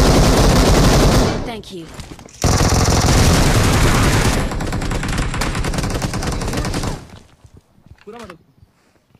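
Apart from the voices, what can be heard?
gunfire in video game BGMI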